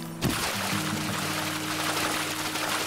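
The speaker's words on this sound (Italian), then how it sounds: "ci ho buttato un pochettino di acqua. Forse un po' troppa." Water poured out in the sea kingdom of Super Mario Odyssey, a brief splash that becomes a steady rushing pour lasting a few seconds.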